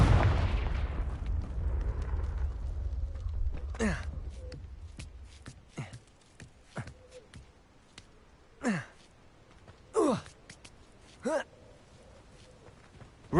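The Confringo explosive spell in Hogwarts Legacy lands as a loud, rumbling blast that fades away over a few seconds, followed by scattered short swishing sounds.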